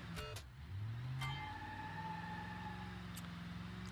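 Video game engine sound of an air-cooled V10 truck driving hard in BeamNG. A steady low engine drone shifts pitch as it accelerates, with brief sharp squeals or clicks over it and no talk.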